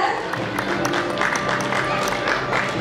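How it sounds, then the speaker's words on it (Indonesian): Wedding guests at a reception in the Fairfield Hotel, Surabaya, clap together in a brief, moderately loud round of applause, mixed with background music and voices. "Kita berikan tepuk tangan para diri sekalian."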